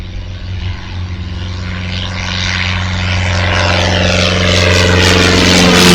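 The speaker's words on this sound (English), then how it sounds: "Here's this one taken off. It's going down the runway." A propeller aircraft takes off down the runway, its engine drone loud and close and rising steadily in power as it picks up speed, with no talking.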